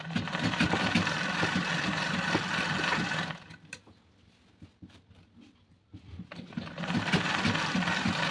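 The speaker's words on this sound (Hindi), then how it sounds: "इस तरह से रख के इसकी सिलाई करनी है।" A sewing machine runs steadily while stitching a umbrella-cut frock made from an old sari, pausing briefly for a few seconds before the motor whirs up again at close range.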